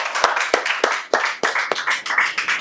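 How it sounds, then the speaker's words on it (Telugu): Several people clap in short bursts, roughly ten sharp claps in an uneven rhythm, applauding a correct answer in a spoken English class; fairly close and moderately loud, with no talking. "Right answer, claps."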